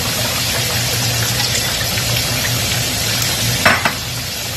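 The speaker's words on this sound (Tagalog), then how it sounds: "Haluin lang natin para hindi mamuo." Flour being stirred into milk in a pan for béchamel sauce, a steady soft scraping and swirling under a low background hum, with a couple of light knocks near the end.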